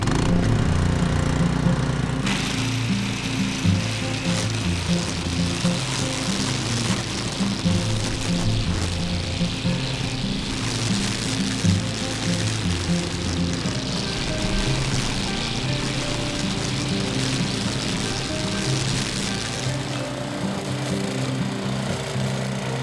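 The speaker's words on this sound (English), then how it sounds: "Remember, anytime you use your Earthquake string trimmer, always use eye and ear protection." An Earthquake gas string trimmer runs continuously during fall garden clean-up, giving a steady, buzzing engine drone with a whirring line that holds close and fairly loud throughout.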